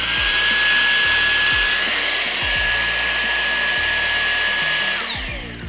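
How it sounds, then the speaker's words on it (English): A pretty noisy vacuum cleaner runs loud and steady with a constant whine and roar, holding for several seconds before the sound drops away at the end. "This is a pretty noisy vacuum cleaner."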